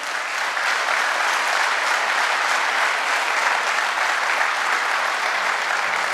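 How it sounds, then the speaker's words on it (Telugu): A large audience claps for their parents at a family achievers' reunion training event, a dense, steady roar of applause that runs loud and unbroken throughout with no talk over it. "శ్వాస ఒక్కసారి మీ అందరి పేరెంట్స్కి హార్ట్ నుండి గట్టిగా క్లాప్ చేయరండి"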